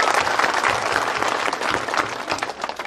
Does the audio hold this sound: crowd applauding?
yes